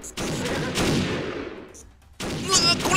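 Gunfire in a video game rattles in loud bursts, a sustained volley that fades out, a short pause, then another burst of shots, with excited voices shouting over the action.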